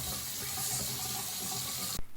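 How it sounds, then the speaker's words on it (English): Water runs steadily from a shower for about two seconds, a dense continuous splash that cuts off abruptly at the end, with no voices. "So I'm about to take a shower and I'll be back."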